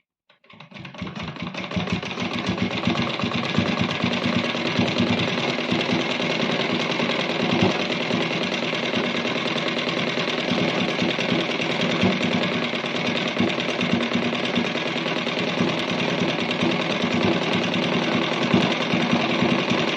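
An electric sewing machine stitches double-folded warm cloth for a child's patka, starting up and then running in a fast continuous mechanical whir at close range with no talking.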